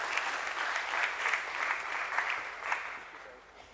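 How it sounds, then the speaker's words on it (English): Fairly faint applause from an audience at a BSE stock exchange listing ceremony, rippling in uneven swells and fading toward the end, with speech-like sound mixed in underneath. "A nice round of applause, ladies and gentlemen,"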